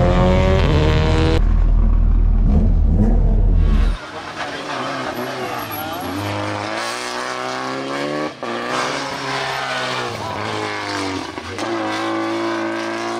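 A rally car blasts around a one-kilometre night special stage on a kart circuit, its engine revving hard and loud through rising and falling gear changes up close, with no talk.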